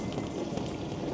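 Rain falls steadily while riding a mobility scooter with a cabin on a dark evening, a close, even patter without voices.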